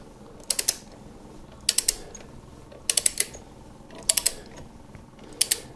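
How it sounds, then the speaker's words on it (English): A ratchet driver turned backwards while fitting frame sliders to a 2020–2021 Kawasaki Ninja 1000SX gives five short bursts of quick, light clicks at roughly one-second intervals, close and crisp over a low background. "The little clicks you hear, of course, going backwards are just the ratchet."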